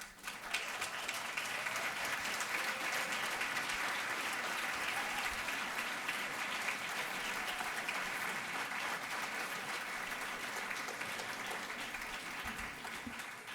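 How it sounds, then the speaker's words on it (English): Sustained applause from a pageant audience at Miss Cayman Universe 2018, a dense, even roar of many hands clapping for over thirteen seconds, heard from a distance. "if we will recognize them with a round of applause"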